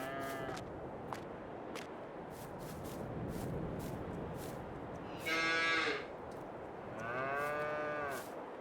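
Cattle on a farm in Farming Simulator 22, Elk Valley: two loud, drawn-out moos rise over a steady background murmur of farm ambience, the second arriving about a second after the first.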